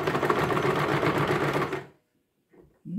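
A sewing machine runs in one steady burst of rapid stitching, close and even, then stops abruptly, leaving near silence with a few faint handling clicks.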